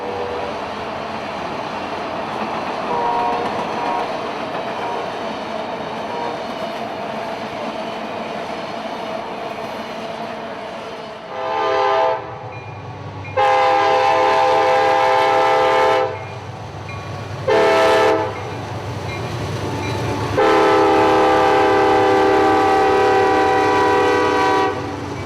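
Amtrak 98, the Silver Meteor passenger train, rumbles past at Folkston, Georgia, with loud wheel and car noise, then sounds its horn in several long, close, blaring blasts.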